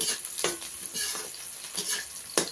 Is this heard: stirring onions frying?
yes